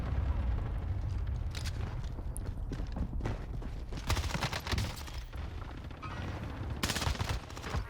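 Gunfire in Call of Duty Warzone, dense bursts of rapid automatic fire and loud shots over a constant rumbling game background, with heavier volleys toward the middle and end.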